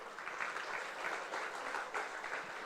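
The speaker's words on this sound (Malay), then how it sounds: "Bagi satu tepukan yang gemuruh." A crowd applauds sponsors at an event, a fairly faint but continuous patter of many hands clapping at an even level throughout.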